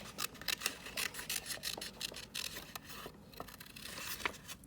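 Scissors cutting out a paper rabbit head: close, quiet rasping snips and paper rustles in an irregular run of short strokes, with no voices.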